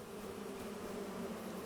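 Bees buzzing around beehives on a farm in Farming Simulator 25, a steady, droning hum that holds at an even level with no talk.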